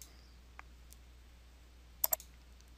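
Two quick, crisp computer mouse clicks close together, selecting OK in an Excel dialog, with a fainter click earlier in an otherwise quiet room.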